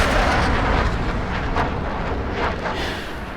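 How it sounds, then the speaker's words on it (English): Dense, continuous roar of a war video game battle, with explosions, planes passing overhead and gunfire blended into a loud, steady wash with a few sharper bursts. "explosions are going off in the background, planes are flying over, gunshots all the side"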